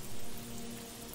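Steady rain hiss in a film scene, broadband and continuous with a faint tonal hum beneath, no voices.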